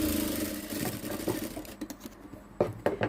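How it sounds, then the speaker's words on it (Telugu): A sewing machine running fast as it stitches dots on the front of a blouse, a rapid mechanical whir that stops and is followed by a few separate clicks and knocks from handling the machine. "ఇలా చూసుకుని ఆ లైన్లో కూడా కుట్టేసుకోవాలి."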